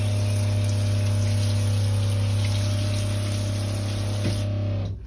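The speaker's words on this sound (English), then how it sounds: "Turn on the water." Water runs steadily from the shower in a basic shelter bathroom, a constant close rushing spray with a low hum underneath, cutting off near the end.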